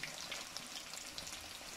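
Rahu fish frying in oil in a desi-style pan, a steady close crackling sizzle with scattered sharper pops and spits throughout, no voices.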